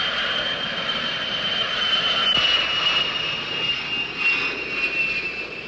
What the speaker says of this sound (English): a great big jet liner is flying right down over the tee